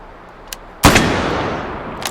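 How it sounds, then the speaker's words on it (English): A single sharp shot from a Jungle Carbine, the Lee Enfield No.4 Mk1 short rifle, fired at an outdoor range, loud and close with a long rolling echo that trails off, preceded by a faint click. "Let's shoot the Jungle Carbine if you can"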